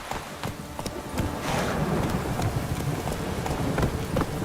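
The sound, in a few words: hooves of the horse Roach in The Witcher 3 video game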